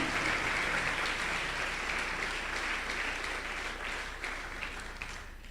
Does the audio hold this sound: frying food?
no